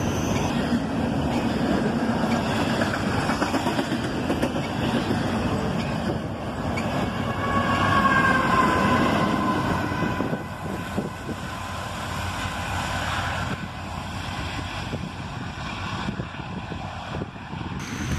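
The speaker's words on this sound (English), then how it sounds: "intermodal trains generally don't run with only one locomotive" A CSX intermodal freight train rolls past outdoors on a Sunday morning, a steady broadband rumble and rush with wind buffeting the microphone, swelling slightly midway and then holding at a constant level without voices.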